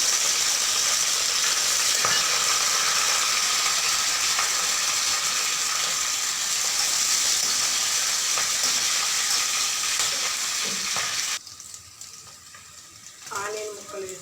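Garlic cloves, green chilli pieces and curry leaves frying in oil in a pan over low heat, giving a steady, close sizzle and crackle that runs continuously before dropping away near the end.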